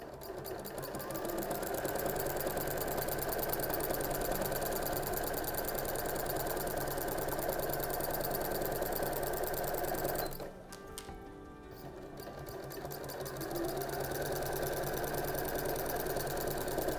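A sewing machine with a start-stop button stitches a Christmas stocking in a steady, fast mechanical whir that drops briefly near the middle and then resumes, close and continuous with no voices.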